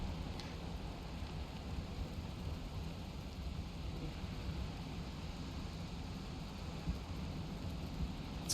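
Rain pours steadily in a Valheim thunderstorm, a constant dense hiss with faint rumbles of thunder and a couple of sharp cracks, with no talking.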